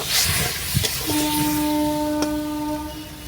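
Water poured into masala in a hot pan hisses and sizzles, with a soft burst of steam and a thin whistling tone rising over the crackle, near and moderately loud.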